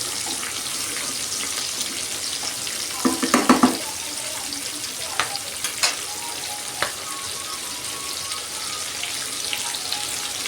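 Okra (bhindi) sautéing in a pan for a spiced curry, a steady bright sizzle throughout with a brief burst of louder stirring clatter near the start and a few scattered utensil taps after.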